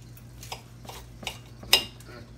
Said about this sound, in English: And get a knife and cut it and show y'all.